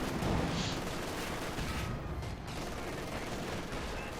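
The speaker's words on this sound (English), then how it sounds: "Everything blasted by the MG42." MG42 machine gun fire in a Company of Heroes 2 battle, a dense continuous rattle of rapid shots blended with other distant gunfire and battlefield noise, moderately loud and steady throughout.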